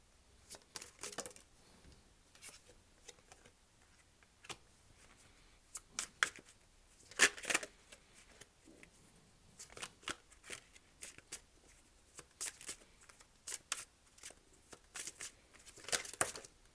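Tarot cards are shuffled and drawn close by, making soft riffling flutters and crisp snaps in irregular clusters against near silence, quiet and intimate throughout.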